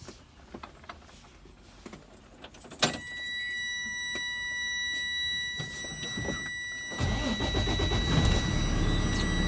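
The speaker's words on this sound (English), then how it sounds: "For this test, I will safe start my engine." Class A truck engine started inside the cab: a few key clicks and rattles, then the starter catches and a steady diesel idle hums with a faint electronic whine, the engine note swelling louder near the end.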